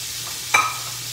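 Onions and peppers hit melted butter in a pan, one brief crackling burst of sizzle rising over a low steady kitchen hiss.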